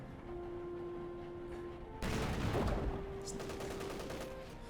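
Artillery fire from a 10.5 cm howitzer in Company of Heroes 2, a broad blast hitting at the midpoint and rumbling away under a steady battlefield drone, no voices.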